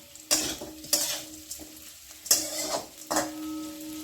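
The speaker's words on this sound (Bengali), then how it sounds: "কফির সঙ্গে আমি ওই মশলাকেও ভেজে নিচ্ছি।" Cauliflower fries with spices in oil in a pan, a soft sizzle punctuated by four or five distinct metallic scrapes and knocks of a spatula against the pan at uneven intervals.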